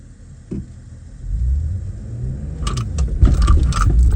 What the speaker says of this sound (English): Don't rev it too hard, bruh. But keep it at like 2003 and come out the clutch slow as fuck.